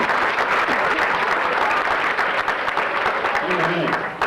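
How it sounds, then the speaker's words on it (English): Audience applause at an elementary school graduation, steady hearty clapping from a room of people with a voice speaking briefly over it near the end. "Give him a big hand clap."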